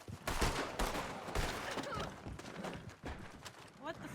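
Several rapid gunshots ring out in a Red Dead Redemption 2 roleplay game, sharp cracks scattered irregularly across a few seconds amid other noise, with a voice speaking over them.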